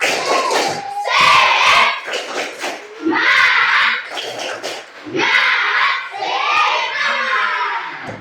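A class of sixth-grade primary school children in Koja chants a rhythmic clapping cheer together, loud bursts of shouted voices in time with patterned clapping, close and lively.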